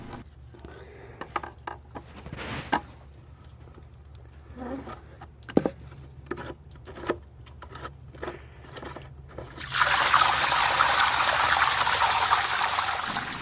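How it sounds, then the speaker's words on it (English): Water gushes steadily and loudly from the bottom of a pool cartridge filter once its drain plug comes off, following several seconds of sharp handling clicks and knocks. "Take off the drain plug on the bottom of the cartridge filter."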